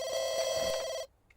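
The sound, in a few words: telephone ringing in The Sims 2 video game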